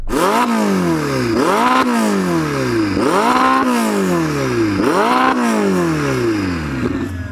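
A McLaren's 3.9-litre twin-turbo V8 revs hard in repeated bursts, about five rising-and-falling throttle blips in steady rhythm, loud and close with no talking.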